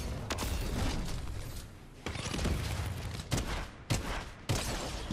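Bursts of video game gunfire arrive in loud clustered volleys, with several sharp onsets separated by brief lulls of rumbling background action.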